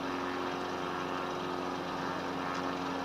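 Aircraft engines drone steadily in Microsoft Flight Simulator 2020, a constant even hum with a strong tonal whine that fills the whole stretch at moderate level, with no talking.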